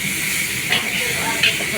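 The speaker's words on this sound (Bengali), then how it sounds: "ভাজা পেঁয়াজটার মধ্যে টমেটো ঢেলে দিল।" Tomatoes hit a pan of fried onions for a pumpkin and potato sabji in a hotel kitchen, giving a loud, steady sizzling hiss with two brief sharper bursts partway through.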